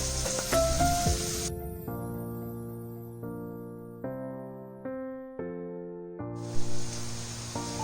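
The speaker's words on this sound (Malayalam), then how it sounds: "നമുക്ക് നല്ലവണ്ണം വരട്ടി യോജിപ്പിക്കാം." Onions sauté with salt in a pan for a Kerala-style ginger curry, a steady sizzle heard at the start and again at the end, with a stretch of tonal music notes in between.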